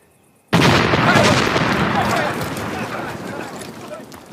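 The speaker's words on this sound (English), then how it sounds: "Our cannon, their cannon. Our shot, their shell. Our volleys, their volleys." Battlefield cannon and artillery fire bursts in abruptly as a dense, loud roar of booming shots and shell blasts, sustained for several seconds and easing slightly toward the end.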